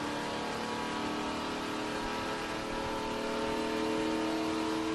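A sports car engine holds around 5,000 RPM on an open stretch, a steady, loud droning whine from inside the cabin with no voices over it.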